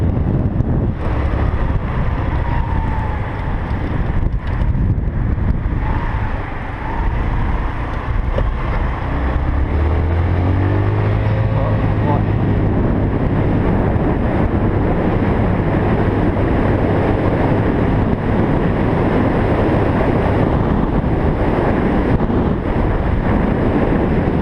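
Peace Sports Knight 150 scooter speeding downhill, heard as loud, steady wind roar buffeting the microphone throughout, with a low engine drone rising partway through.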